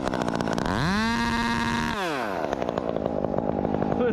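Chainsaw cutting a bigleaf maple during tree removal, loud and close, revving up into a sustained high whine as it bites through the wood, then dropping to a rough, sputtering idle.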